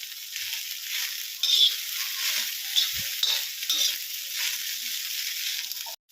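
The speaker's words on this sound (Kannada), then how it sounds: "ಹಿಂಗೆ ಸ್ವಲ್ಪ ಎಣ್ಣೆ ಹಾಕೊಂಡ ಈಗ ಸ್ವಲ್ಪ ಕಪ್ಪಾಗೋ ತನಕ ಹುರ್ಕೋಬೇಕ್ರಿ" Steady, bright sizzling of okra frying in hot oil, loud and close, with a brief stirring scrape partway through and no talking.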